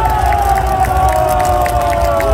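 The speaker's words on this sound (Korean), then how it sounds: "여러분의 이 함성과 이 응원, 격려" A large outdoor crowd at a presidential election rally shouts and cheers loudly and continuously, a dense roar of voices with rhythmic chanting pulses and a steady low hum.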